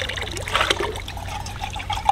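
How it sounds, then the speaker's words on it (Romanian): Well water runs by gravity through a pipe dropped into a well above, trickling and splashing steadily and fairly loud with some bubbling, and no voices over it. "o țeavă băgată în fântână și uite-te tu că ne vine apă prin cădere"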